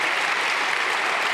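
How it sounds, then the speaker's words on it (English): Brief, steady applause from a conference audience at a PyCon and PyData Berlin lightning talk session, a dense even patter of clapping with no talking over it. "big round of applause for Irina"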